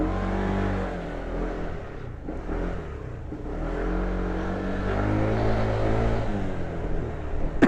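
A Honda Venture ADV Ultimate scooter fitted with an R1 racing pulley revs steadily, its engine drone rising and falling in a continuous close-up whine with no talking.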